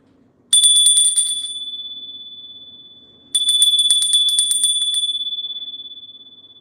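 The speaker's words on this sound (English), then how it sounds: "I'm going to ring the bell." Small handheld bell rung twice, each strike a bright, loud metallic ring with a sustained tone that slowly fades, the second coming about three seconds after the first, alone in a quiet room.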